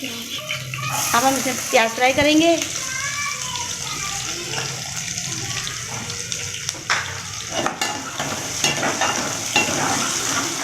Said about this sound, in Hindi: अब हम इसमें प्याज फ्राई करेंगे।